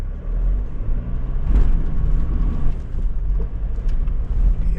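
A 4WD vehicle takes a run-up on a steep mountain track at Mt Studholme, its engine a loud, continuous low rumble with rough bumps and rattles throughout.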